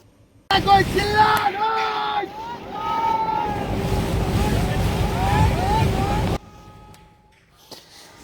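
A trawler in the Sundarbans hums with a steady engine drone out on the water, mixed with wind buffeting and a voice calling over it, before the noise cuts off abruptly.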